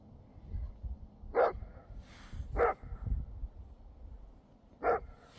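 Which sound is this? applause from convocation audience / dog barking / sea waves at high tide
dog barking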